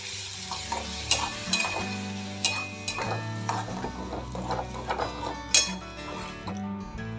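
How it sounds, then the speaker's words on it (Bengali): Ridge gourd paste frying in oil with poppy seed, a steady sizzle under repeated scraping and stirring of a spoon in the pan, with sharp clinks of utensil on metal throughout. "পোস্ত থেকে তেল ছেড়ে দিয়েছে এখন এই ঝিঙে বাটাটা দিয়ে দেব"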